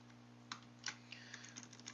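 Soft, close taps on a computer keyboard come as scattered single keystrokes over a faint steady hum, with no voices.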